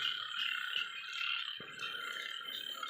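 Frogs croak in a steady, continuous chorus outdoors after rain, a dense trilling wash that carries on without pause, with a few faint low knocks underneath and no talking.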